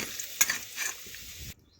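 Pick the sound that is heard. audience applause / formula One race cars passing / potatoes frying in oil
potatoes frying in oil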